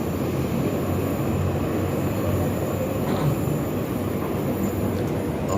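Inside an LRT light rail station on the Sri Petaling line in Malaysia, a steady rumbling rail noise hums continuously, fairly loud and even, with a faint high whine above it.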